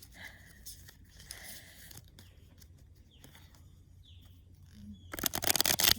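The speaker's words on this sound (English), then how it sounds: "You hear the birds." Birds call outdoors near water, with scattered faint chirps and whistles over a quiet background, ending in a louder rustling or crunching burst close to the microphone.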